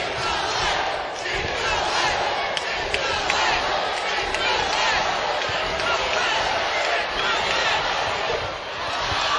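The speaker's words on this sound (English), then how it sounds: "You heard the crowd chanting Chick-fil-A." A basketball crowd chants in a packed arena during an NCAA women's game between Ole Miss and Texas A&M, a loud, steady roar of many voices that carries through the whole stretch.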